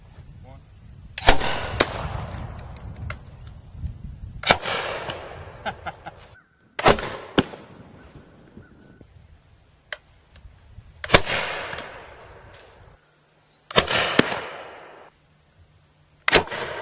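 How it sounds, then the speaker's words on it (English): A homemade potato gun fires several times outdoors, each a sharp loud pop with a short decaying tail, spaced a few seconds apart, with brief talk between shots. "that, my friends, is a well-working potato gun"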